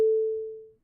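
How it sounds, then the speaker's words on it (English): Special weather statement alert tone from a live severe weather radar broadcast: a single pure sine beep that starts sharply and fades out smoothly in under a second, alone with no voices. "But if we had special weather statements, that's the sound you would hear."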